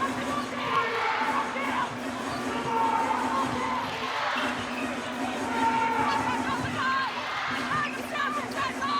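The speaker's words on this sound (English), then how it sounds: "The Fever crowd's starting to rev up and get involved." A netball crowd at a Fever versus Vixens Super Netball match in 2022 cheers and murmurs continuously at a moderate distance, rising in swells, with a commentator talking over it.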